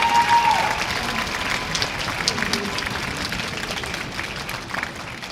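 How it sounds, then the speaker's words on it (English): Audience applause at a spring schools concert, for a student: steady, fairly soft clapping from a crowd in a hall, holding evenly throughout. "let's give a round of applause for Ashley"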